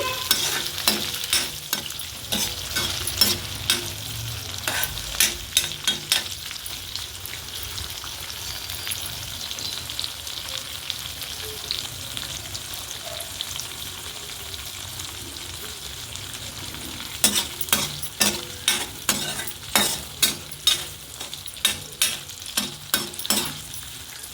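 Dried prawns fry in a pan while being stirred for an amaranth-leaf curry, a steady soft sizzle with repeated scraping stir strokes, clustered at the start and again near the end, close and without talk.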